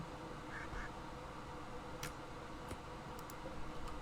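A duck quacking in the video game Rimworld, a few short quacks over steady game background noise, with light clicks.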